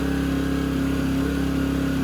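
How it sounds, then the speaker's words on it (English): A portable generator engine runs steadily nearby, a loud, constant droning hum with a rough mechanical buzz and no pauses or speech. "when this is going, the engine kicks up to make sure it's giving off and putting out enough power"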